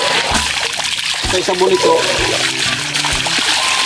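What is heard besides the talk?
water splashing while bathing in a river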